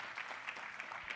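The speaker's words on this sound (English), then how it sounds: "So please give a huge round of applause for Dr. Eric Calloway." Conference audience applauding a speaker at a food security event, a steady wash of clapping throughout, moderately faint and without speech.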